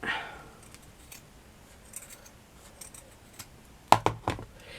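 Scissors trim small felt pieces for handmade scrap-felt roses. A quiet stretch is followed near the end by a few sharp, close snips in quick succession.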